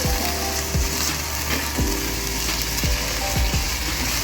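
Tomatoes frying with garlic and ginger in a pan give a loud, steady sizzle, with occasional scraping clicks from stirring.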